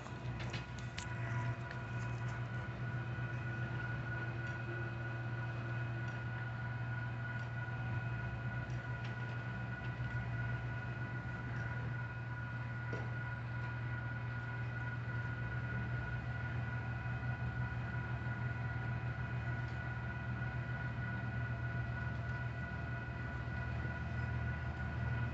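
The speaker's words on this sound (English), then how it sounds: "I have the southbound UP Stockton Turn Loco coming" Southbound Union Pacific Stockton Turn local freight led by locomotives UP 9922, 9920 and 9901, a steady low engine drone with a constant hum and faint rail rumble, moderately distant and unbroken throughout.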